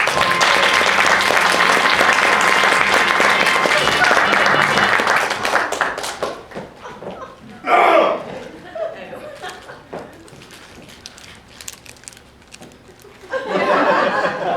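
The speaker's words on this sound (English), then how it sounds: "a warm round of applause for tonight's guest artiste" Theatre audience applause greeting a guest artiste at a music-hall style stage show, a loud sustained wave of clapping that tapers off, followed by scattered laughter and chuckles with a few later bursts of reaction.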